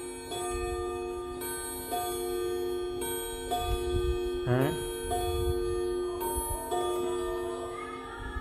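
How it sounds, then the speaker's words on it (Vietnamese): A cheap alarm clock on its first bell setting rings in repeated bursts, a bright metallic ringing that starts and stops several times. Someone speaks briefly over it. "Bây giờ test, em test trước cái chế độ chuông chuông đầu của nó nhá"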